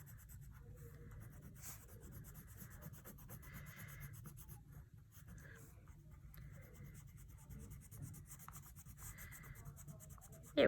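A yellow crayon rubs across paper in steady back-and-forth scratchy strokes, close and soft, continuing throughout with brief pauses and no talking.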